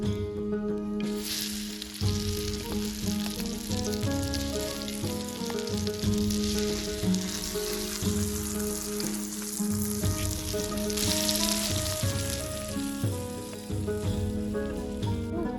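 Masala sizzling and crackling in hot oil at an outdoor farm cooking spot while aloo paratha is being made, a loud continuous fry with occasional stirring scrapes.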